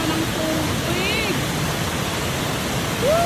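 Waterfall water at Diana Spot in Conway pours with a steady, loud, dense rushing hiss that fills the whole clip, while faint voices sound under it.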